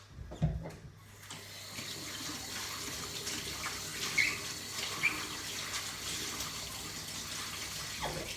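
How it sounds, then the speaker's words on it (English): Cut potatoes rinsed under a running kitchen tap, water gushing steadily and close into the sink for several seconds after a brief clatter at the start. "I really do like to wash the starch off of the potatoes"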